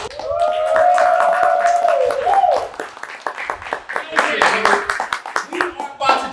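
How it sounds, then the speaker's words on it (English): An audience claps in scattered, rhythmic bursts while voices whoop and talk over them, with a long sung or shouted note early on and the crowd noise rising and falling throughout. "Clap it up and make some noise"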